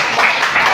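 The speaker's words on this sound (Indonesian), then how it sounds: "tepuk tangan sekali lagi" Applause from a classroom audience, a dense, even patter of many hands clapping together, close and loud throughout the brief moment.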